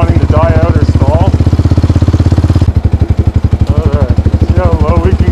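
A 2014 Yamaha Raptor 700R ATV with a 50-inch-wide stance chugs up a hill in first gear on barely any throttle, its engine pulsing in a steady low thump close by.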